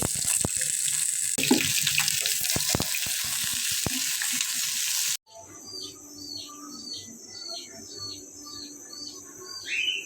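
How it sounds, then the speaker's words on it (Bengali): Potatoes fry in hot oil after fish, with a dense steady sizzle that cuts off abruptly halfway and gives way to quieter kitchen sounds and faint bird-like chirps. "তো এই তেলে আমি আলুগুলো ভেজে নেব।"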